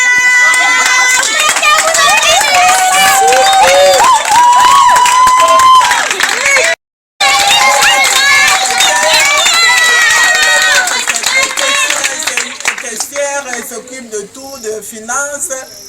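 A crowd at a women's month event of an NGO in Haut-Katanga cheers and shouts for a woman, a loud dense roar of many voices with a brief dropout, then tapering toward the end.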